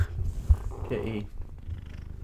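A house cat purrs softly up close, a low rumble heard in short stretches while someone speaks over it and a football match commentary plays in the background.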